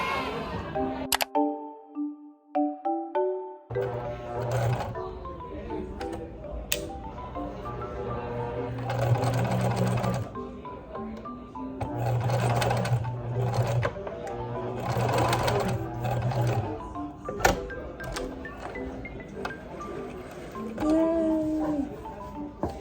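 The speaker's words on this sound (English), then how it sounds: "And now we have this, and it's ready to get stitched together." A sewing machine stitches fabric for a skirt, its motor running in repeated loud humming bursts with clicks between runs, and brief tonal beeps near the start and end.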